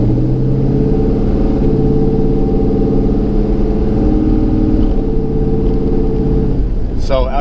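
A 1998–2002 F-body car with a 3600 stall torque converter drones steadily as it upshifts and settles, a loud, close, even engine hum inside the cabin with a short sharp sound at the very end.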